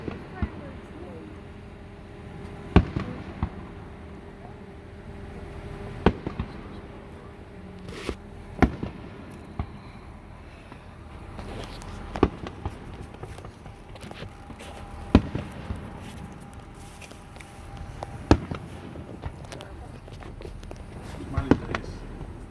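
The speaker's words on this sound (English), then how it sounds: "Some big fireworks." Big fireworks explode in sharp, separate bangs about every three seconds, fairly distant, over a low steady background, with faint sounds of people talking now and then.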